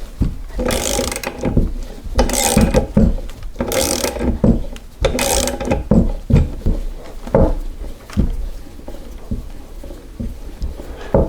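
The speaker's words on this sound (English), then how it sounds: "Now I'm just going to use a socket and tighten up the nut and pull the bearing." A ratchet socket tightens the puller nut on a 1983 BMW R80ST steering head bearing, making loud, close, repeated bursts of metallic clicking in rhythmic strokes, with heavier knocks between them and no talk.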